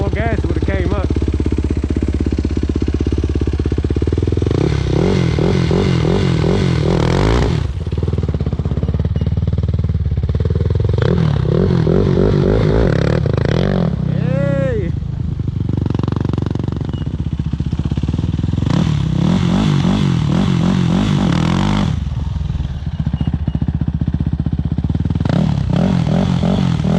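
A motorcycle engine revs during a wheelie attempt, with loud, close bursts of throttle that rise and cut off several times over a rough, clattering idle.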